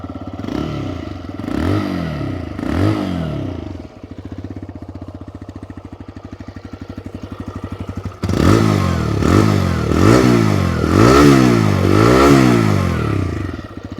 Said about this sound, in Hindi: अभी हम चलते हैं towards the exhaust note of the motorcycle